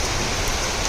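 Steady monsoon rain pours down in a dense, even hiss of drops striking surfaces, continuous and fairly close, with no voices.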